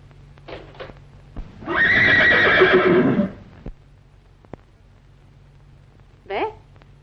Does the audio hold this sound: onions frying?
no